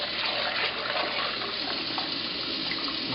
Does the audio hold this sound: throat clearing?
no